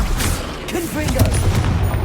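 A Confringo blasting spell from the Hogwarts Legacy video game, a loud booming explosive burst with rumbling crackle, close, with a voice calling out the spell over it.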